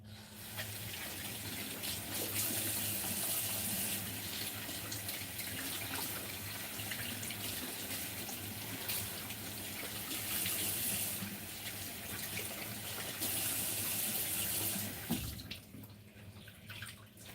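Salad vegetables are washed under a running kitchen tap, a steady close rush of water that carries on for about fifteen seconds before cutting off, with no talking.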